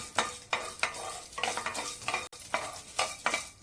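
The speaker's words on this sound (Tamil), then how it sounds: "ஏலக்காய் வறுப்பட்டுடுச்சு" Cardamom pods roast dry in a pan for a health-mix porridge flour, with rhythmic scraping stirs sweeping back and forth in regular bursts, close and moderately loud.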